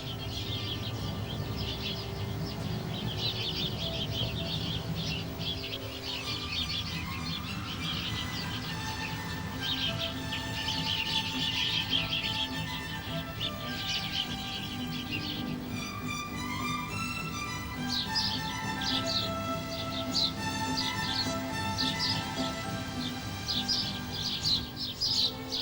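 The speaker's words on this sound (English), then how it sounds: "More little house sparrows." House sparrows chirp continuously in a garden, a busy flock of overlapping short, bright calls and twitters, fairly close, alongside steady low background noise.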